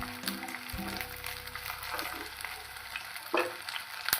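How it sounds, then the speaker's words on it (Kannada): Tomato, tamarind, coriander leaves and coconut frying in a pan, a soft close sizzle with occasional stirring scrapes, steady and fairly quiet. "ಇದನ್ನು ಇವಾಗ ನಾವು ಚೆನ್ನಾಗಿ ಫ್ರೈ ಮಾಡ್ಕೊಳ್ಳೋಣ."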